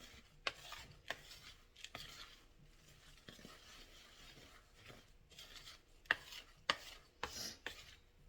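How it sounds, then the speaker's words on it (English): Dry ingredients for old-fashioned iced oatmeal cookies are stirred in a bowl, giving faint scraping and rubbing strokes with a few sharper taps against the bowl, quiet and irregular. "it says to whisk or stir and then set it aside. So we're just going to stir it"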